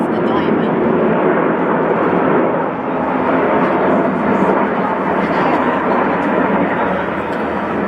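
Snowbirds aerobatic team airplanes pass overhead above the Thousand Islands, a loud, broad jet roar filling the air continuously, close and heavy, while people talk beneath it.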